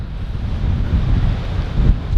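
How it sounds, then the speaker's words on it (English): Strong wind buffets the microphone at the edge of the water near a waterfall, a steady loud roar with gusts and low rumble throughout, with no voices. "it's so windy today"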